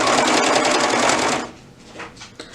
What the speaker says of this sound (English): So just slip all that under the serger.